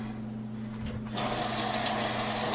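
Tap water starts running after about a second and keeps up a steady, close splashing rush as Nutri Ninja blender blades are rinsed in a kitchen sink, over a low constant hum.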